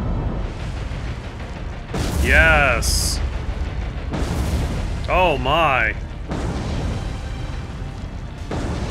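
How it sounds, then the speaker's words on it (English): Warship explosions boom in the naval combat game War On The Sea during a Dutch East Indies campaign, two big blasts a few seconds apart with whistling, sweeping tones and rumbling, while a man reacts aloud. "Explosions."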